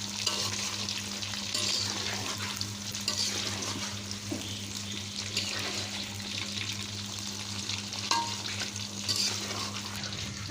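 Sun-dried mango pieces for pickle fry in hot oil with a steady, close crackling sizzle and occasional soft stirring scrapes, continuous throughout.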